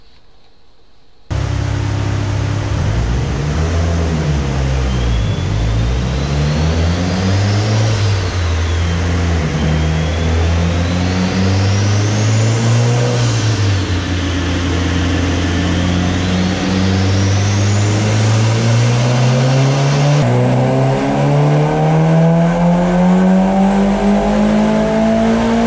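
A Mitsubishi Evo 8 with 12,000 original miles and aftermarket modifications, strapped to a dyno, roars loud and steady through repeated rising revs, its pitch climbing and falling in long sweeps with a whining turbo on top.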